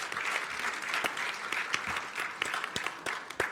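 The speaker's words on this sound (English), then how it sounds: "let's keep the applause going" A conference audience applauds after a presentation on education and skills, with sparser, distinct claps popping through a steady wash of hand-clapping that holds at moderate level throughout.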